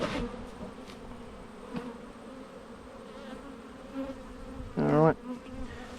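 Honey bees hum around an open Langstroth hive being given sugar feed, a soft, steady buzz with one bee zipping loudly past the microphone near the end.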